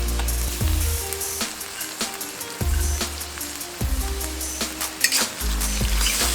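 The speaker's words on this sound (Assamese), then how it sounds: "আদা নহৰু মানে যেতিয়ালৈকে কেঁচা গোন্ধটো নাযায় তেতিয়ালৈকে মই ভাজি থাকিম।" Ginger garlic paste sizzles and fries in a wok for an Assamese local chicken curry, giving a steady close crackle with faint clinks, while low tonal sounds hum underneath throughout.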